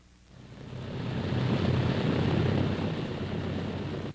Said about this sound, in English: Arrival at Oslo by C-47s of the American 474th Infantry Regiment